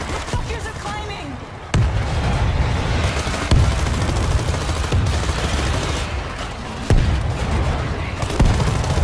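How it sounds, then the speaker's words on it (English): Grenade blast and gunfire from the World War Z zombie shooter game: a dense, continuous battle din with sharp loud bursts recurring every couple of seconds, with voices under the noise. "Throwing a grenade."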